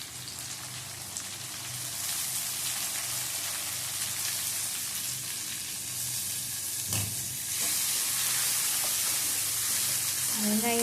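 Onions and tomatoes sautéing in a pan for a fish curry, a steady broadband sizzle throughout that brightens and grows louder in the last few seconds, with a brief clunk near the middle and no talking.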